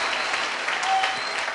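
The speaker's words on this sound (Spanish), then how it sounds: "Dele palmas al Señor amado y bendito y maravilloso, nuestro Redentor Jesucristo." A church congregation claps their hands together in sustained, dense applause, steady and fairly loud throughout with no pause.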